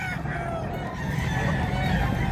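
A rooster at a Cebu gamefowl farm crows once, loud and close, a long drawn-out call heard over faint background noise with no talk.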